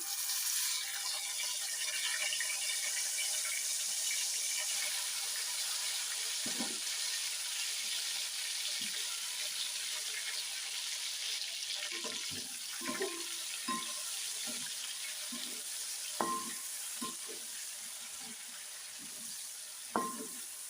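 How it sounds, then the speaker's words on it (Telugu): Stuffed eggplants fry in hot oil with a steady, broad hiss and sizzle, punctuated by occasional clinks and pops as pieces are added and moved. "ఇప్పుడు ఈ వంకాయలు ఒక్కొక్కటి ఆయిల్లో అయితే వేసేసుకుందాము"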